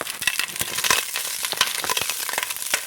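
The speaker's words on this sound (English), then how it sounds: "I put the onions and the garlic in. Now I'm sauteing them." Onions and garlic sizzle and crackle in a pan after hamburger has been browned and drained, a loud, close, continuous frying hiss with frequent sharp pops and occasional utensil scrapes.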